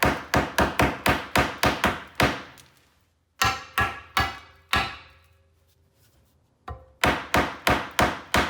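A hammer strikes the radius arm safety strap on a 1967 Jaguar E-Type's independent rear suspension: quick runs of sharp, close metallic taps, then a few spaced blows with ringing decay and a pause before another fast burst.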